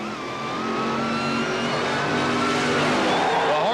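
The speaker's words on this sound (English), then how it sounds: "Brent Bramley in the dragster, Simon Menzies in the Corvette funny car." At a 1977 NHRA Springnationals sportsman drag race, a dragster and a Corvette funny car roar loudly and continuously, engines rising in pitch as they accelerate down the strip.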